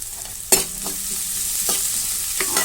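Onions and green chillies fry in a pan for egg fried rice, a steady close sizzle broken by a few sharp clacks of stirring.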